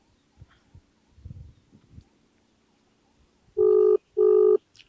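An outgoing phone call rings with no answer: two loud, evenly spaced ringback tones follow a few seconds of faint, quiet background shuffling.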